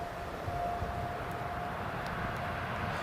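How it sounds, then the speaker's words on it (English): A British Airways airliner taxiing at Newcastle Airport gives off a steady, fairly distant engine rumble and whine that holds level throughout, with no voices. "So else we've got the British Airways, which is just taxiing."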